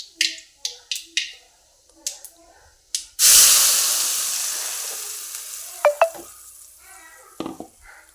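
Masala tipped into hot oil for tempering while cooking egg masala, a sudden loud sizzle that slowly fades, preceded by sharp taps and clicks and followed by a few stirring knocks.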